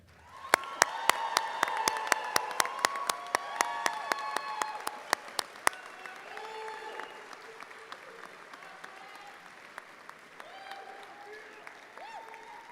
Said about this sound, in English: And let's give one more round of applause to our graduates today.